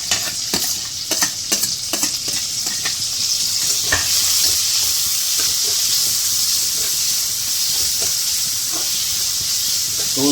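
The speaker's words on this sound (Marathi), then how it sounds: "ते उपरांत घालता खूब सारो कांदो" Onions fry in a pan with a steady, loud sizzle while a utensil scrapes and clicks against the pan in irregular stirring strokes.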